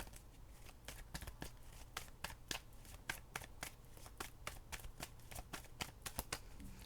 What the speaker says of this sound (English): give me 1 more card on the wealthy man. 1 more card